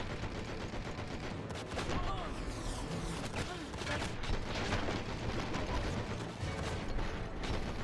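Shotgun blasts and mechanical weapon noises ring out in the video game Enter the Matrix, dense and continuous with repeated gunfire bursts over steady game sound.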